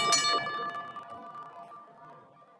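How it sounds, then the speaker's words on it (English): A single bright ring from a wrestling referee's bell signals the start of a match, a sharp metallic strike that fades out over about two seconds with no talk. "Referee calling for the bell."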